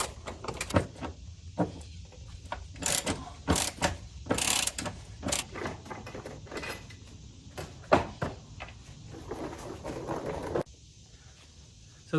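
Ratcheting wrench clicks and metallic clunks come from removing the bolts on the factory running board brackets of a 2020 Toyota 4Runner TRD Pro, heard close up in irregular bursts with occasional knocks and no talk.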